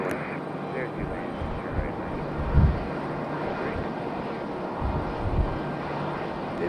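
JetBlue airliner at Raleigh-Durham International Airport, a steady broad roar of jet engines with low rumbling swells, heard from a distance at a plane-spotting location while a person talks over it.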